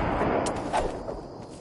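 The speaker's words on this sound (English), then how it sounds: "Bunch of bullets." Gunfire in a PS4 video game comes as a few sharp, loud bursts, one at the start and one near the middle, followed by a fading rumble, with no voices.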